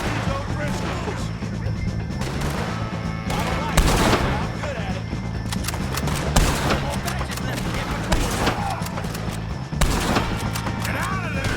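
Gunfire while shooting O'Driscolls in Red Dead Redemption II: repeated loud, close gunshots and volleys in an irregular rhythm across a firefight, with shouting voices and chaotic battle noise underneath.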